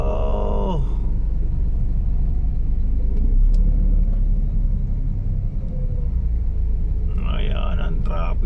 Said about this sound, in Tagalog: Yan po ang traffic.